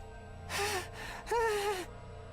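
A character in The Hundred Line: Last Defense Academy, voiced by Sam Riegel, gasps twice in quick succession with breathy, voiced intakes, close and fairly soft against quiet background.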